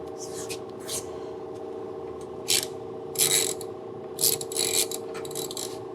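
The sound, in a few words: ratchet loosening a 12 millimeter bolt on a motorcycle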